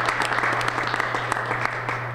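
A crowd at a public ceremony applauds for Ms. Clay, continuous dense clapping with sharp individual claps standing out over a low steady hum throughout.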